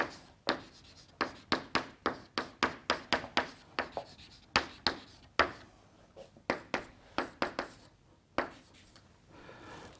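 Chalk or marker writing physics equations on a board, a quick run of sharp, rhythmic strokes and taps, close and clear, with brief pauses between bursts and no talking over it.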